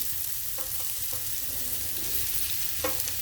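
Tomatoes sautéing with already-browned onions in a pan for mixed vegetable curry, a constant even sizzle with occasional soft stirring scrapes and a brief clatter near the end, no talking.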